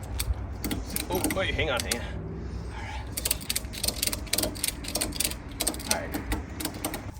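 A ratchet is cranked in quick clicking bursts, near and fairly loud, after a stretch of mechanical shuffling, with someone talking briefly over the start.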